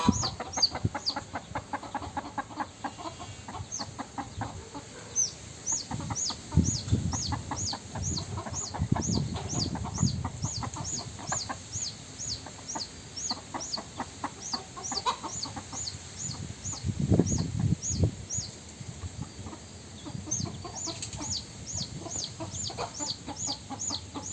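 Chickens cluck steadily in a farmyard alongside rapid high bird chirps, a busy layered mix with louder flurries of clucking near the middle and at the end.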